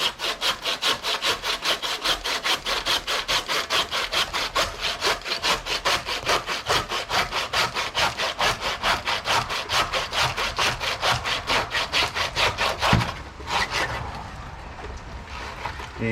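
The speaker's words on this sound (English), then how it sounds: "I'm just going to get the handsaw and" A handsaw cuts through a snapper fish head in quick, regular back-and-forth rasping strokes, close and steady for about thirteen seconds before the strokes break off and fade.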